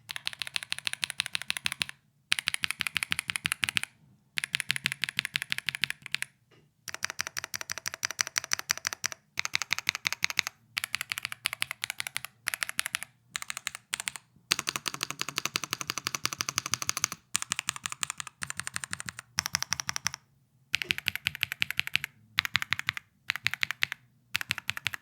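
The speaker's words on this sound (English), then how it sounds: "let's go over the sound test of the keyboard" Typing on an AJAZZ AK980 mechanical keyboard with a numpad, fast close-up clacking keystrokes in bursts separated by short pauses, loud and crisp with no talking.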